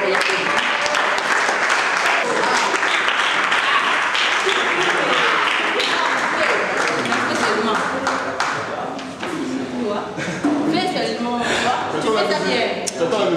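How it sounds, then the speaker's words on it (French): An audience at a dinner held with orphans breaks into loud, continuous applause, dense clapping that carries on without a break alongside voices talking and calling out. "sous l'applaudissement"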